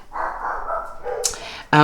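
Someone talks briefly before her pet dog lets out a single loud, sharp bark close by at the very end, indoors during an unboxing of a Hobonichi 2024 planner.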